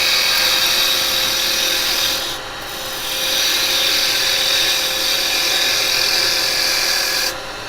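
Carbide tool taking a smooth finishing cut on wood turning on a lathe, a steady close rasping hiss that dips briefly and then resumes at full strength.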